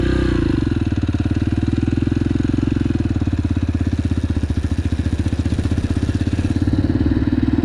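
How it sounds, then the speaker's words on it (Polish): A Yamaha TTR motorcycle pulls away in fifth gear with a loud, close single-cylinder thump that stays steady and laboring at low revs, with no voices over it. "Dam oczywiście troszeczkę gazu, żeby się TTR-ka nie męczyła, ale ruszę wam z piątki."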